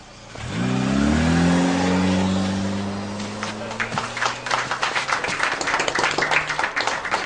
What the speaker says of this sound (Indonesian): Kenapa pada tepuk tangan?